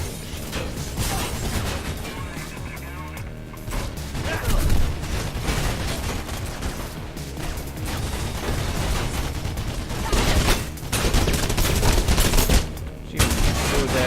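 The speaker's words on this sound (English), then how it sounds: "A single machine gun is what they have?" Sustained machine-gun fire in the video game Mirror's Edge, rattling bursts and crashes running almost continuously at close range, with a few brief gaps and talking over the top.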